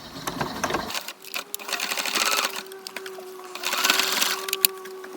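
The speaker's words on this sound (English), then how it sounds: "Now I'm sewing the underarm sleeves and sides of each bodice" A sewing machine stitches the underarm and side seams of a small doll bodice with a steady, close whirring and mechanical ticking that swells midway and again near the end.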